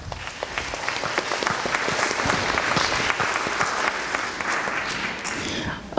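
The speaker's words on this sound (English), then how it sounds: "give yourselves a round of applause" An audience at a screening applauds: dense, steady clapping from a crowd that holds for several seconds, then thins out.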